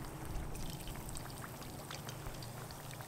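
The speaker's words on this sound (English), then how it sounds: "It's bubbling. I think the oil needs to get just a tad bit hotter for it to cook perfectly" Sheepshead or snapper fillet laid into hot oil in a skillet, sizzling and bubbling with a soft crackling hiss, faint and steady throughout with no talk.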